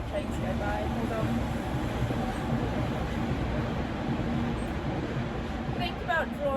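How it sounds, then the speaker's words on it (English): A train passes close by in a steady, broadband rumble that holds at the same level for the whole stretch, with faint clatter and a few higher squeals near the end. There is no talk. "I'm going to wait for that train to go by."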